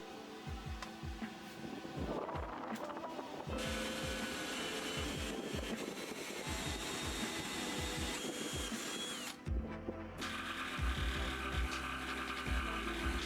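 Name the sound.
jigsaw and router cutting out area in workbench top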